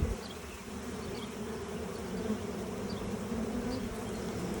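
Steady, dense buzzing of many honey bees swarming close around a hive, a continuous low hum with no voices.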